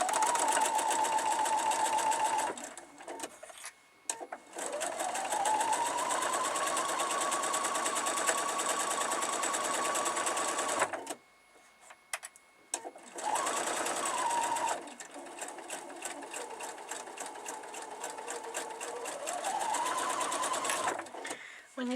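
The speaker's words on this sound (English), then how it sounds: "Let's put needle down and start sewing." Domestic sewing machine stitching freezer-paper patchwork pieces, a close, steady high whirring hum in several long runs separated by brief pauses, the motor speeding up and slowing at the start and end of each seam.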